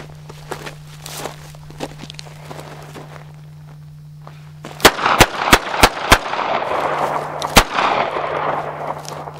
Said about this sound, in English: I think it's time to put a few rounds through it.